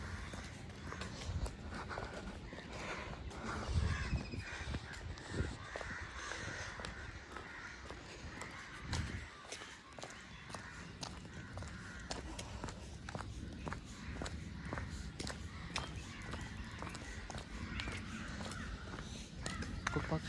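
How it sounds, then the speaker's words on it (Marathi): Crows caw repeatedly on a city morning, with other birds joining in, fairly faint and distant, over the soft rhythm of nearby footsteps while jogging. "खूप पक्ष्यांचा आवाज येतो इथं"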